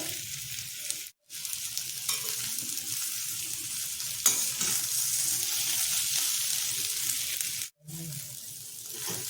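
Samosa dough sizzles and is stirred in a pan on the stove, a soft continuous frying hiss with scraping movements, broken by two short pauses.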